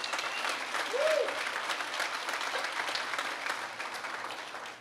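Audience at a motivational talk applauding, a steady, moderately distant patter of many hands clapping that holds evenly and eases off slightly at the end.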